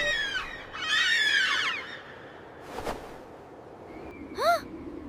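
Bird calls in a storytelling scene, a couple of shrill rising chirps and a drawn-out warbling call separated by quiet gaps, moderately loud against faint background noise, no talk.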